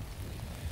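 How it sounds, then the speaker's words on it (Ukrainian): Heavy, sudden rain falls during carp fishing outdoors, giving a steady broadband hiss with a low rumbling undertone, continuous and fairly faint, with no talk. "От за секунду, навіть за секунду пішов дощ."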